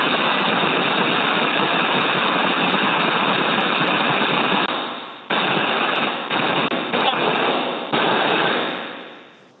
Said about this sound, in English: that background noise is expected. That is the microphones and the flow of air within the suits